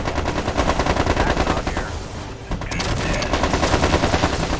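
Mech weapons fire in the MechCommander 2 strategy game: a loud, dense stream of rapid automatic shots that dips briefly midway and then resumes, with no voices over it.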